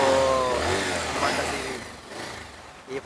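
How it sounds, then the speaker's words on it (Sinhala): A motorbike engine, just brought back to running after a plug repair, runs close by and revs in uneven surges, then settles lower and rougher toward the end, with no speech over it. "හරිනේ පුතේ බයිසිකල් ස්ටාර්ට් වුණානේ"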